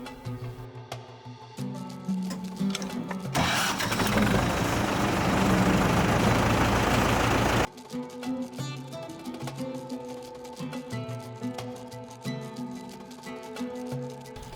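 A tractor engine rumbles steadily at idle, with a loud broadband roar for several seconds in the middle before it settles back into a low, even run.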